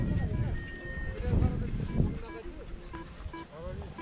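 Wind gusting across a paragliding launch site on Gyeonggaksan mountain, a steady low rumble buffeting the microphone that swells and eases beneath several people chatting nearby.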